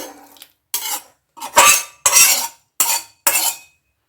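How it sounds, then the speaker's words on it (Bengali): Sautéed radish with its oil tipped into a pot of cooked pea dal, then stirred in a series of six distinct scraping, clattering strokes of a spoon against the pot, close and loud with short silent gaps between. "কষে রাখা মূলোটা কিন্তু আমি এই ডালের মধ্যে এবার ঢেলে দেব"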